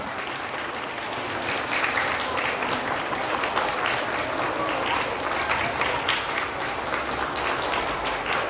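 An audience at a school end-of-year awards ceremony for lower-grade pupils claps steadily, a dense, even wash of applause held throughout without a break.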